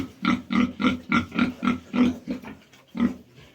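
A rapid series of short grunting oinks from piglets, about a dozen in a quick rhythmic run with a brief pause near the end, close by.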